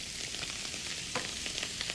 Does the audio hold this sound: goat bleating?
no